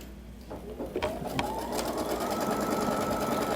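Embroidery machine stitching a tack-down line over shrink film, a steady close mechanical whir with fast needle chatter that builds and holds at an even level after a few soft clicks at the start.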